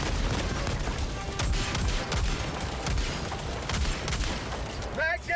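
Video game gunfire, dense bursts of rapid shots and bangs that fill the scene continuously, loud and close, then a brief pause with a short electronic chirp.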